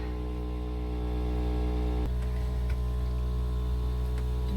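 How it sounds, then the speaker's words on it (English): An air compressor runs steadily outside an RV with a low, humming motor drone, a few faint ticks and clicks in the background. "you can hear the air compressor outside already"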